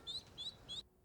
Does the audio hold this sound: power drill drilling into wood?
no